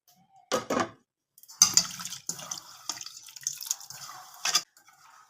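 Chopped capsicum and ginger being rinsed by hand in water, giving a few separate bursts of splashing and sloshing with short quiet gaps between them.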